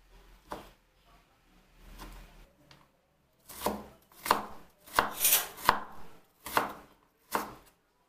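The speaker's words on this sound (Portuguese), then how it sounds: "E agora eu vou cortar a linguiça." A knife chops through sausage on a cutting board, several firm thuds at an uneven pace, close and fairly quiet, with a few lighter taps earlier.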